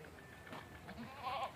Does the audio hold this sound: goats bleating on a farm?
yes